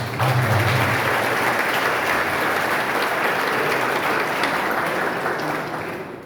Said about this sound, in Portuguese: Uma salva de palmas para os noiteiros